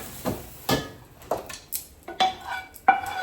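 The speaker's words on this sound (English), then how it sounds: "Get all the onions in." Onions go into a hot pot with a series of distinct, close clanks and scrapes of a utensil against metal, spaced irregularly, with a faint sizzle underneath and no speech.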